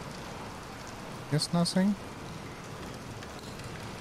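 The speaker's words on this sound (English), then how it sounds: "Raining outside." Steady rain falls as a soft continuous hiss in Bendy and the Dark Revival, running throughout under a brief spoken phrase in the middle.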